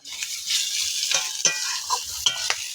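Bitter gourd frying in a pan, a steady sizzle broken by scraping stirs of a spatula, close and fairly loud with no talk.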